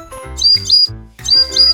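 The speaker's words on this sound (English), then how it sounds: "Look, a bird in the tree." Bright, high chirps from a bird in a tree in a children's cartoon, in two short bursts of quick tweets over soft musical backing.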